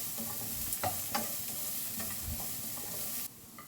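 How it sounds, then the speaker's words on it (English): Carrots and onion are stir-fried in a pan for Singapore rice noodles, giving a soft, steady sizzle broken by a few light scraping stirs. "Then carrot. Fry them 2 more minutes."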